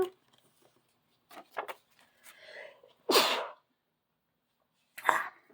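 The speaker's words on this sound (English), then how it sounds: "Had to sneeze." A single sharp sneeze bursts out loudly in a quiet indoor room, with brief breathy sounds and faint movement before it and a second, shorter sneeze-like burst a couple of seconds later.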